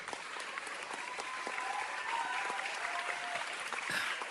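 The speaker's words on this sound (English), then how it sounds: "that deserves a round of applause." Steady applause from an audience during a talk-show episode, sustained clapping throughout at moderate distance with no voices on top.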